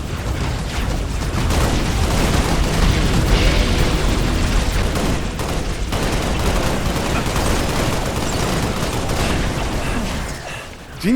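Dense Halo Reach battle noise: continuous rapid gunfire mixed with booming explosions, loud and sustained throughout before tapering off at the very end.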